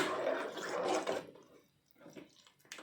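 Water is poured into a pot of pav bhaji as it cooks, giving a brief liquid splash and gurgle that fades into a quieter, softer trickle with no voices.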